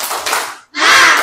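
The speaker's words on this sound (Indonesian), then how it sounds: "Tepuk semangat, bisa?" A classroom of students does a spirit clap, with loud rhythmic clapping and shouting voices, then a brief sharp pause before a second loud burst of group clapping.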